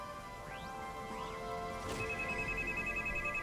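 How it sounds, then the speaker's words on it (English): A phone ringtone in Genshin Impact gameplay, faint rising chirps followed by a steady electronic tone that repeats softly over quiet background music. "My phone is ringing."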